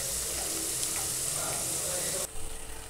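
Pakoda batter of bitter gourd and finger millet flour frying in hot oil, a steady close sizzle with bubbling that thins and quiets near the end, no talk.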